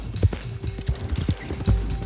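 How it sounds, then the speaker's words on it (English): A horse being ridden in Red Dead Redemption 2 gallops with rapid, rhythmic hoofbeats, close and steady, with a faint steady tone in the background. "We just have to ride this horse."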